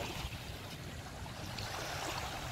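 Water pours steadily from above into a holding pool where live seashells are kept at a Bang Saen beach, a continuous broadband splashing rush with a low rumble, close and unbroken.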